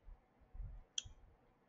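A computer mouse button gives a single sharp, faint click in a quiet room, with a soft low thump or two around it and no voices.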